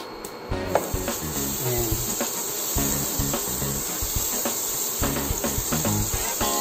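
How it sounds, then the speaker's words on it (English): Butter melting in a copper skillet, giving off a steady sizzling hiss with small pops and crackles, close and fairly loud; a voice speaks briefly at the start. "Tunawin lang muna natin yung butter."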